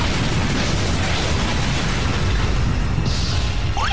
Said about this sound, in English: One generator has been destroyed.